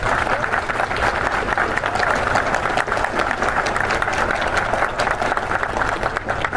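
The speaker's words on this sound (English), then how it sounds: "Give him a round of applause." After a military re-enlistment oath, a room full of people delivers a sustained round of applause, thick and even clapping that stays at a steady moderate level for several seconds.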